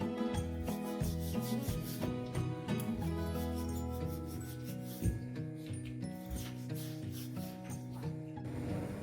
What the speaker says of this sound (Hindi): पूरियों को हम बेल लेते हैं।